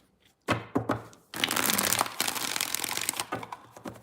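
Tarot cards being shuffled in a few quick riffling bursts, close and crisp, with a sustained flurry in the middle and short snaps at the start and end.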